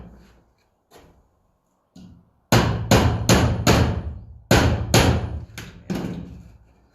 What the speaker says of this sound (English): hammer the back nail in.